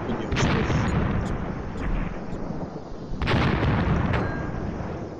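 Explosions and artillery fire in the World War II tactical strategy game Graviteam Tactics Mius Front, heavy booms and blasts rolling over a dense battle rumble, with distinct loud bursts standing out near the start and middle.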